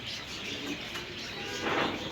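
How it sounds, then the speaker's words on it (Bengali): Pigeons in a pet shop stocked with fancy breeds coo softly at close range, with a few deeper coos and faint chirps over a low room hum. "কিছু ফ্যান্সি কবুতর আছে, রিভার্স কবুতরও আছে।"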